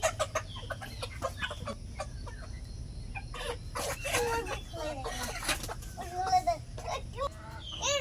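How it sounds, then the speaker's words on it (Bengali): Newly bought chickens, roosters and hens, cluck and squawk in irregular bursts, close by and fairly loud, with faint voices in the background. "মুরগি কিনে আনছি।"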